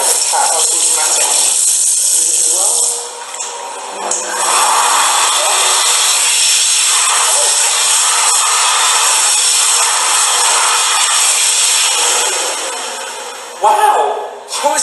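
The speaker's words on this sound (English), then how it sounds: "ASI hand dryer. Never seen anything like this before." An ASI automatic hand dryer blasts a loud, close, steady rushing roar that dips briefly near the start, then resumes and cuts off before a short final burst.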